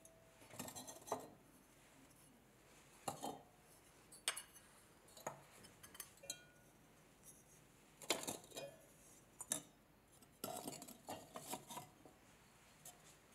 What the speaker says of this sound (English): Once all the pots have been unpacked